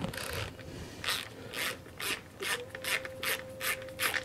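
A ratchet clicks in bursts while unscrewing the vacuum-controlled fuel tap on a Yamaha Virago 750 motorcycle. The strokes come in repeated close, rhythmic runs, with a faint whine underneath and no speech.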